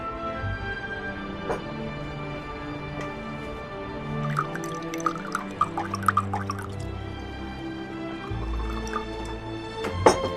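Water runs and drips as hands are washed at a tap, a soft, steady trickle with scattered splashes and drips, fairly quiet, with no talk.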